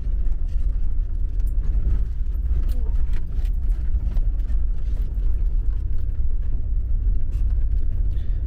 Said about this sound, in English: We're actually driving on the tarmac road